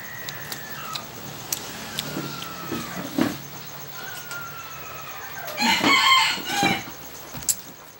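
A rooster crows clearly a couple of times in the distance, with scattered clucks and faint outdoor background noise.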